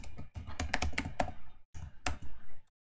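Close computer keyboard clatter as code is typed: quick bursts of keystrokes, a short pause, then a few louder final taps, with no talking.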